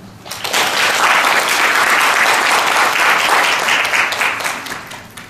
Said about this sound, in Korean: 각자 불렀을 때 박수를 맞춰주세요.